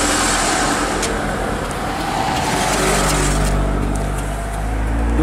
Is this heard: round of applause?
no